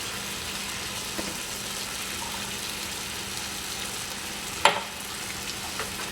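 Curry broth bubbles and sizzles steadily in a pan, a soft continuous frying hiss close by, with one sharp clink of a utensil or lid partway through.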